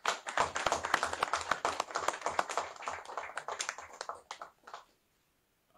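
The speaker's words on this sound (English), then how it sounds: "You can clap for him again." An audience claps for a guest at a refinery launch event, a brisk patter of many hands that holds strong, thins out and stops into near silence before the end.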